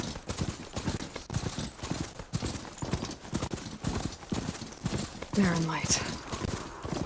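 A mount gallops in Horizon Forbidden West, a fast, rhythmic run of hoofbeat-like footfalls that continues steadily while a voice speaks briefly over it.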